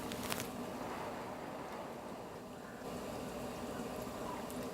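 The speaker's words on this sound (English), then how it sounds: "So the water is boiling" Water boiling in a pot on the stove while pasta is being prepared, a steady close bubbling and hissing simmer that continues evenly throughout with no talking.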